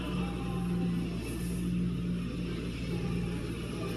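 A Lincoln Town Car engine idles at an even, low, steady hum, heard fairly quietly and without any voices.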